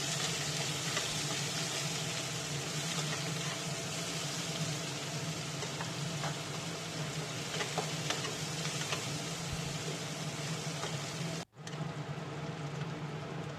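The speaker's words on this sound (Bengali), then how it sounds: "পেঁয়াজটা একটু ভালো করে ভেজে নেব।" A medium chopped onion frying in hot oil with five-spice seeds in a wok, giving a continuous, even sizzle throughout with one brief break near the end.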